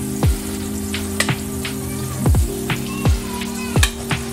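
Butter melting in a pan for a cheese sauce, for a broccoli cheese rice casserole, gives a steady close sizzle broken by occasional dull knocks and clinks.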